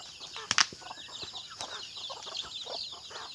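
Chicks and ducks at a morning feeding, including black Australorp chicks, peeping and clucking busily close by, with a couple of sharp flaps or squawks near the start over a steady chirping bed; no talking.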